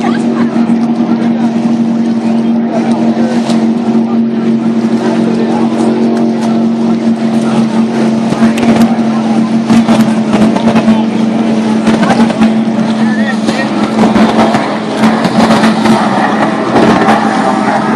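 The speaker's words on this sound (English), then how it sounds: "Here come the outboard powered cats." Outboard-powered catamaran race boats at a Clearwater Beach super boat race roar past in a loud, continuous engine drone with a steady pitch that holds for the whole stretch.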